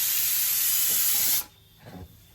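A pressure cooker in a home kitchen lets out a loud, steady hiss of escaping steam for over a second, then cuts off sharply, leaving a few faint low knocks.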